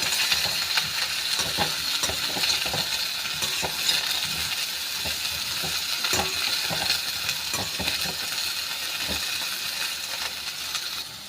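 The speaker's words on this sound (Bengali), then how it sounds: "এবারে বেগুনটাও একটু উলট পালট করে নিচ্ছি" Eggplant pieces fry in oil in a pan for a vegetarian cauliflower dish, a continuous sizzle with frequent light clicks and scrapes as they are flipped and turned, close and steady.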